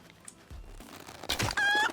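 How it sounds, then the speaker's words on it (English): Chicken clucking and squawking in the survival game SCUM, a few sharp calls rising to a louder, harmonic-rich burst at the end as the bird is chased. "No, get back here, chicken."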